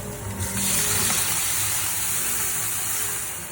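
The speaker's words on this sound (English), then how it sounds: "My wok got sort of sticky there with the tofu, so I'm going to give it a good rinse." Running tap water gushes steadily into a sticky wok as it is rinsed, a continuous close hiss with no talking.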